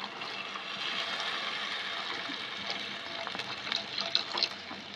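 Pre-heated water is poured into sizzling cooked-down masala in a pan for dhokar dalna, a steady close rush of liquid running for about five seconds with no talk.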